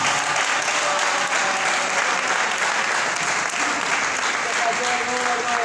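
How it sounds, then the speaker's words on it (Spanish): A congregation applauds a wedding couple inside a church, a dense, steady wash of many hands clapping that continues for the whole stretch, with faint voices mixed underneath. "Un aplauso a ustedes."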